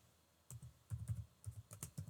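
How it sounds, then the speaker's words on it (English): Soft taps on a computer keyboard as a search phrase is typed, an uneven run of about a dozen quiet keystrokes alone in a hushed room. "we're going to type in"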